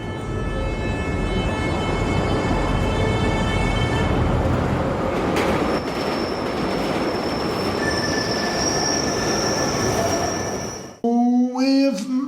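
A commuter train runs toward Marvel Stadium, loud rumbling rail noise with sustained high wheel squeal and screeching, then cutting off to a brief electronic tone near the end.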